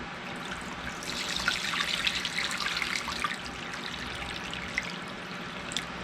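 Water poured from a container into a baking dish in a home kitchen, a steady close splashing stream that runs for several seconds and tapers off near the end.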